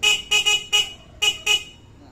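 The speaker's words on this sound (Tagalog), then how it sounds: "Tapos, busina." A toy car's horn beeps five times in short, bright, electronic toots with brief gaps between them, close and loud, no voices.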